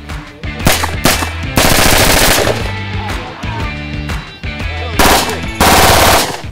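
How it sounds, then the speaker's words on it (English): Gunfire at a shooting range: loud, close bursts of rapid automatic fire alternate with single heavy shots. "So we're about to shoot some guns"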